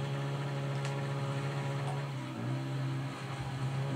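A motorbike engine in the game FUEL, stuck in first gear, drones at a steady high-revving pitch throughout with a brief dip partway, continuous and close with no talk.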